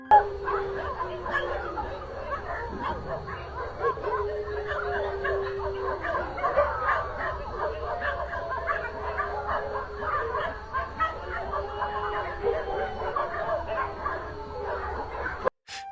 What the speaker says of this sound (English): came home one day to find his dogs barking hysterically